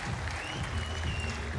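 A crowd applauds and cheers at the women's recurve archery gold medal final in Copenhagen, Denmark, a dense, continuous roar of clapping filling the short moment.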